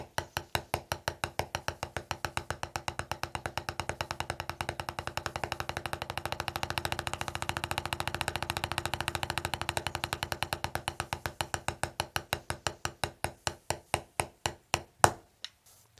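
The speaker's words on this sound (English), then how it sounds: "Double stroke roll is a roll that has 2 strokes in each hand." A drum double stroke roll, played with two strokes per hand: a dense, even stream of crisp hits that speeds up into a tight buzz, then slows back to separate strokes before stopping. No voices are heard.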